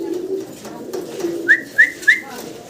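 Pigeons in a sale pen coo softly, with a low rumbling murmur followed by three brief, clear coo calls in quick succession, close by and without talk.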